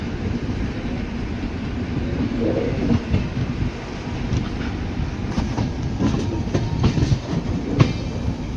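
The Porbandar–Kochuveli passenger train runs on rails at night after leaving Surendranagar, giving a steady close rumble with rhythmic clickety-clack of wheels over rail joints and no voices.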